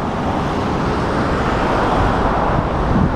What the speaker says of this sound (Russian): Правда, птички не поют, но зато ездят машины.